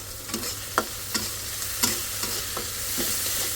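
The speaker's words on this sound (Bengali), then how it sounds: "এখানে এটা একটু ভাজা ভাজা হোক" Steady sizzle of greens frying with a spatula scraping and stirring in a pan, several distinct clinks and scrapes at irregular intervals, close and moderately loud.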